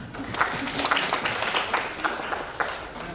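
Moderate applause from a small audience at a health summit after a presentation, a steady patter of many hands clapping for a few seconds, slightly distant.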